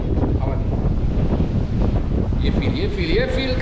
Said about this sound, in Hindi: ऐसी हवा चलती है बस